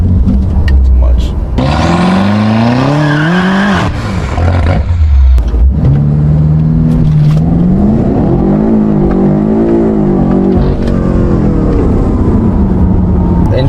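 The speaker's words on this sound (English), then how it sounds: "Let's try second gear launch control, all-wheel drive." A tuned BMW F90 M5 making over 700 wheel horsepower launches hard in second gear with launch control and all-wheel drive. The engine is loud and close, its pitch climbing and dropping through the run.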